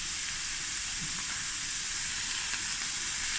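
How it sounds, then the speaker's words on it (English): Cauliflower stew bubbling and sizzling in a pot as it is stirred, a constant close frying hiss with faint soft scrapes underneath, no talking. "Now we're going to stir."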